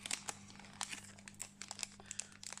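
Scissors cut open the plastic wrapper of a Lorcana booster pack, making faint, close crinkling and snipping sounds in short irregular bursts over a quiet background hum.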